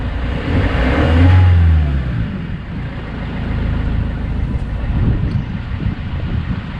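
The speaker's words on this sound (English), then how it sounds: "Let's give it a rev." A Vauxhall Vivaro 1.9 diesel van engine revs up outdoors with a rising surge that then settles back to a rough idle. Heavy wind buffets the microphone throughout, and no one speaks.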